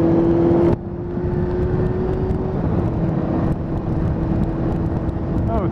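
Riding a Honda Fireblade motorcycle on the road produces a loud, continuous rush of wind over a steady engine drone, with a sudden drop in level early on.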